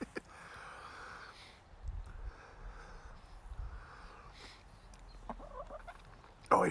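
Chickens cluck intermittently in a garden, soft scattered clucks and a few sharper calls at moderate distance over quiet outdoor background.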